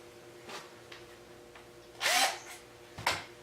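Power drill driving the windshield trim turn signal screws on a Harley-Davidson Road Glide, heard as two short whirring bursts with a tonal whine, alone with no talk.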